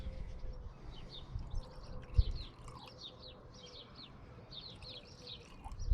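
Birds chirp and twitter repeatedly in the distance over a steady low outdoor rumble at a quiet, grassy campsite in the New Forest, with no voices.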